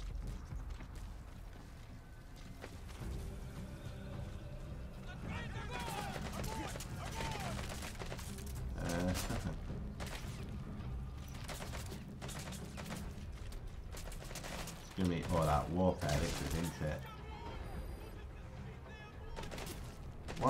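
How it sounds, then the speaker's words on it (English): Gunfire in the Metal Gear Solid V: The Phantom Pain video game comes as a brief, fairly faint burst of rapid shots near the end, mixed with game noise and someone talking. "Is that my man shooting at me there?"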